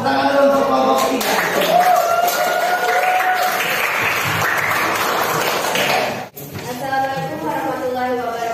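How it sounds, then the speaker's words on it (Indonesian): A classroom audience claps for a student group, a dense, loud wash of applause from many hands that cuts off abruptly near the end as a voice begins speaking over the room. "Tepuk tangan dulu untuk kelompok 3."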